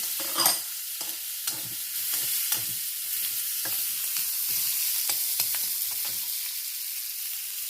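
Onions and green chilies fry with mustard seeds in coconut oil for a Udupi-style brinjal palya, a steady close sizzle broken by repeated spatula stirring scrapes, with no talk.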